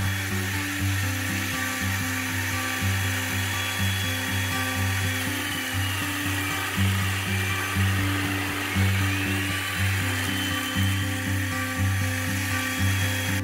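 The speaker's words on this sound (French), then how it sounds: "consiste à plonger l'outil de manière successive jusqu'à obtention de la longueur de mortaise souhaitée" A mortising machine (YT 720) plunges its cutting tool into wood again and again, a loud, steady motor whine with rapid rhythmic grinding pulses, close up and without voices.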